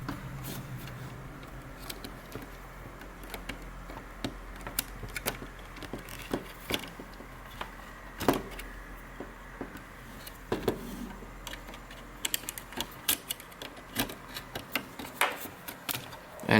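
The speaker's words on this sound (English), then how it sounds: "You're just gonna get a flathead, go right in between the trim and this black part" A flathead screwdriver pries plastic chrome trim off a 2020 Toyota Tacoma TRD Off Road, giving scattered sharp clicks and snaps at irregular intervals over a quiet background, with no talking.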